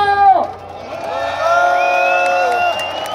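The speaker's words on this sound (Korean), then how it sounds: "여러분 큰 박수 함성 보내주십시오." A large crowd at a candlelight rally in Gwanghwamun Square cheers and shouts together, a loud sustained roar of voices with whoops rising over scattered clapping, continuing for several seconds.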